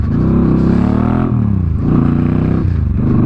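An I RIDE 705 bobber motorcycle engine runs loud and close in cold weather, its steady harmonic drone dipping in pitch partway through as a gear change fails to engage.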